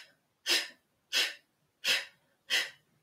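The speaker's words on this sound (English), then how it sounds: "You're going to blow out the candle." Four forceful, evenly spaced breathy exhales, like blowing out a candle, in a Kundalini yoga breathing practice. Each is a short, close whoosh with silence between.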